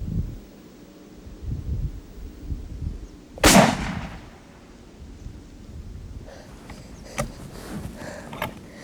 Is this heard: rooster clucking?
no